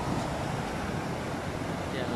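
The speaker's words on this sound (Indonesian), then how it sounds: "Sudah kuat tuh air naik." Flood water rushes down a small river at Pampang, Keningau, risen high up its banks. It makes a steady, loud broadband roar and wash with no break across the whole stretch.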